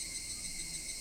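Cicadas in the video game When They Cry, a dense, continuous high-pitched buzzing drone that stays steady and moderately loud for about a second, with no voices.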